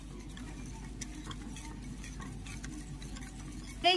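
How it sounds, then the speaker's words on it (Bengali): Quiet, steady stirring of a ripe mango and water mixture for homemade ice cream, with faint ticking utensil taps against the container and a brief louder clatter at the very end. "এবার এটাকে ভালো করে মিক্স করতে হবে, ভালো করে ফাটিয়ে নিতে হবে।"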